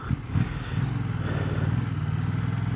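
Yamaha MT-07 motorcycle being ridden: a couple of short throttle blips and clatter give way to a steady, rising engine drone that stays loud and continuous, with no talking.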